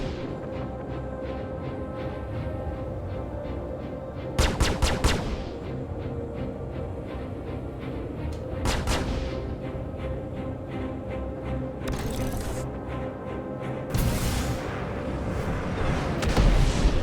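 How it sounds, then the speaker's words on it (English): Missile launches and explosions in the space flight game Star Citizen: a steady engine hum broken by several sharp bursts and rumbling blasts at irregular intervals, moderately loud. "Have another missile."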